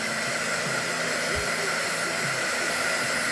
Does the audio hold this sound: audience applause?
no